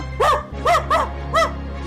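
A dog barks at night in a few short, sharp yaps, with a pause between them, close and fairly loud over a low steady hum.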